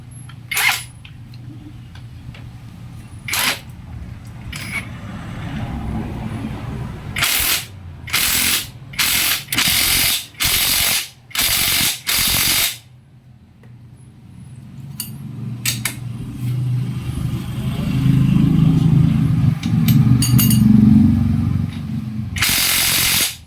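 A Makita cordless impact wrench tightening a bolt, firing in a run of about six loud, evenly spaced hammering bursts in close succession, with a few shorter bursts before and quieter mechanical handling after.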